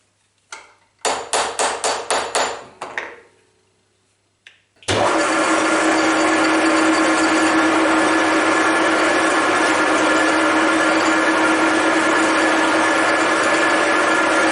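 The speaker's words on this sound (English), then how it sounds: "I'm gonna try some climb milling" Deckel FP1 milling machine climb milling: a rapid run of sharp knocking bursts and a brief pause, then a loud, continuous cutting whine and hum that holds steady for about ten seconds.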